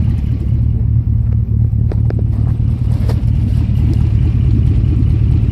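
An LQ4 V8-swapped Ford Ranger rumbles on the move, its exhaust giving a deep, steady low burble with a few light clattering knocks, loud and close throughout.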